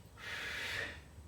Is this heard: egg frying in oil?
no